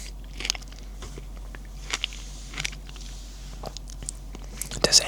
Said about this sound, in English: Does anyone else have a hard time chewing frozen things or very cold things?